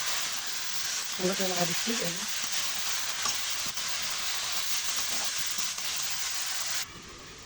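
Bitter gourd fries in a pan with onions, chillies, cumin seeds and salt, making a steady soft hiss, with a brief spoken phrase near the start.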